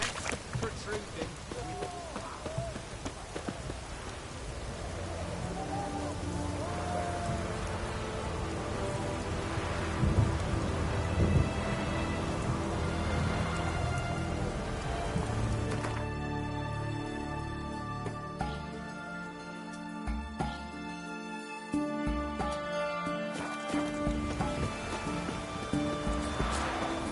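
Steady rain and rolling rumbles of thunder in the video game The Witcher 3, a continuous wash of downpour with deep low booms, heard under intermittent game dialogue and a passage of music.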